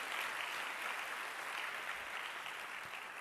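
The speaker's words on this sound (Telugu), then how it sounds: "గట్టిగా చప్పట్లు కొట్టి దేవుని అనుమతింపరచు" A church congregation applauds loudly and steadily at a sermon, a dense continuous wash of hand clapping with no gaps or voices over it.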